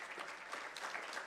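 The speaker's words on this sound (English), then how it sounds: "can you give her a round of applause to give her energy?" Audience at an investment summit applauding as a speaker comes forward, a faint, distant wash of steady clapping with no talk over it.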